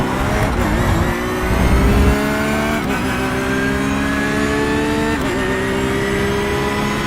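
A BMW GT3 race car in a racing game roars at high revs, its pitch climbing and dropping through gear changes with short dips that suggest shifts or braking, continuous and loud with no voices.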